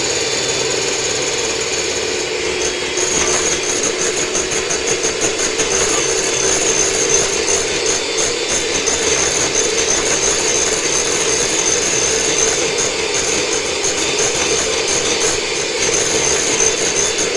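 An electric mixer beats egg yolks into a chocolate cake batter made with cooking oil. Its loud, steady motorized whir runs without a break for the whole stretch and stays close and constant, with no voices.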